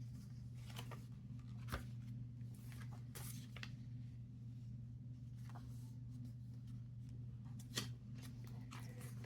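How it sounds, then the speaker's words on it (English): Scissors snip paper a few times during journal-making with digital kit papers, quiet cuts over a steady low hum. "I may have to trim that down a little bit."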